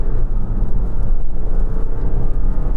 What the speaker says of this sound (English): let's test the acceleration of this 2-litre diesel in this D200